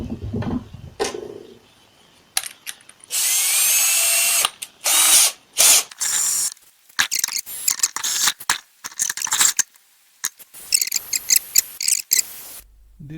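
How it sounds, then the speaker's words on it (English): A step drill bit bores a hole through the lid of a waterproof switch housing, giving loud, high-pitched grinding bursts of a few seconds each that repeat with short pauses between them, close up and with no talking. "Now I will change to step drill bit."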